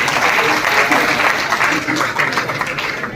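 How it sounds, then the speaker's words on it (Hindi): Applause from the audience at a women's honour ceremony marking the 300th birth anniversary of Rani Ahilyabai Holkar, a steady dense clapping that carries evenly through the whole stretch with some voices mixed in. "तालियां बजती रहे"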